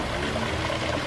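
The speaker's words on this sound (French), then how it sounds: "Avec le petit ruisseau qui va bien sur le côté." A small stream flows beside a countryside path, giving a soft, continuous trickle and babble that stays faint and steady for a brief moment with no voices.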